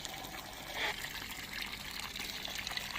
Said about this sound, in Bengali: জল না দিলে গাছগুলো খুব শুকিয়ে যাবে একটু করে জল দিয়ে দিই